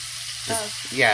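Ribeye steak sizzling in a pan while being basted with butter: a steady, close frying hiss with short bursts of spoon and pan movement, no talking.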